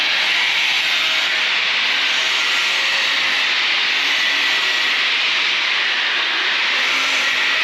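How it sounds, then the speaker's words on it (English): An angle grinder runs continuously against a metal part, a loud, close, steady high-pitched hiss and whine that holds unchanged throughout with no pauses or voices. "You want to grind that while you can still hold it before you cut it off?"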